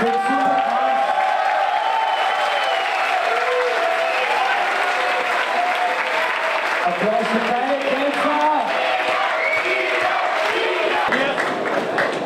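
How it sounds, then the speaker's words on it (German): Audience at a boxing event applauds fighter Ian after the bout, a dense sustained wash of clapping with cheers and shouts that stays loud for the whole stretch, a voice talking over it. "jetzt gerade Applaus für Ian"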